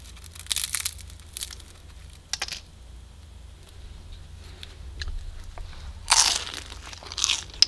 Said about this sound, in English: Let's go ahead and cut this in half just so you can hear how crispy it is.